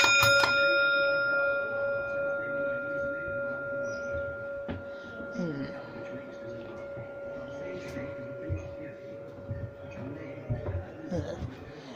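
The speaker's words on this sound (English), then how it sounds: "here is a bell that we can press" A single bus bell pressed aboard a preserved bus at a transport museum gives a sharp ding that rings on and fades slowly, followed by faint background movement.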